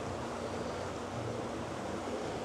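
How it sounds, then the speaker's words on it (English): Water runs steadily at a small water mill, a continuous broadband rush with no pauses, moderately close and alone. "I want to show you guys this little mill here. It is pretty cool, and you can see the water running here."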